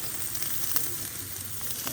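Pork sizzles on a Thai mookata tabletop grill at a rustic outdoor meal, a steady, dense hiss of frying fat that stays even and close throughout with no talking.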